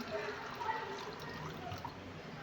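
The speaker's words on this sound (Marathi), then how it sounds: "तर इथे मी चटणी बनवण्यासाठी थोडासा गुळ घेतलेला आहे तर आपण त्यात टाकूया पाणी" Water trickles and pours quietly onto jaggery in a kitchen for a chutney, a faint, close liquid splash heard briefly without speech.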